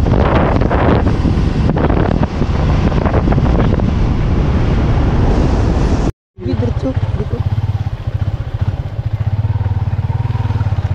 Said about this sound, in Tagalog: Alon, lakas ng alon.